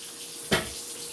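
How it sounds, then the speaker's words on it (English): Filtered water pours briefly into a soup pot on a kitchen stove, a single short splash and gush of about half a second that quickly fades into a quiet room background. "So what I'm gonna do now is I'm gonna add some filtered water."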